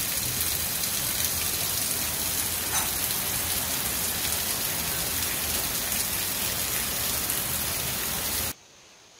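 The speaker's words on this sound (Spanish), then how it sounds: "ustedes ven que se pegó un aguacero" A heavy tropical downpour pours steadily, a dense, loud hiss of rain drumming on surfaces that holds constant for most of the clip before cutting off abruptly near the end; no voices.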